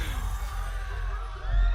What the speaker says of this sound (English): The entire crowd is just electric over this